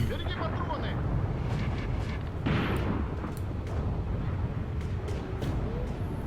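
Gunfire and artillery in the tactical war game Graviteam Tactics: Mius Front, a dense continuous rumble of distant blasts with scattered sharp pops and cracks, steady and loud throughout.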